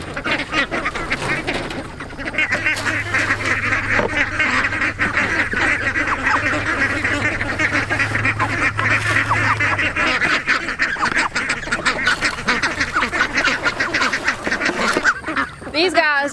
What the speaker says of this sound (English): The pekins are our mate ducks